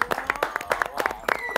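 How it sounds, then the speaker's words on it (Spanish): Brief scattered clapping from an audience at a Spanish-language talk show gathering, several quick uneven claps close by with voices mixed in. "Amelio, un aplauso a eso."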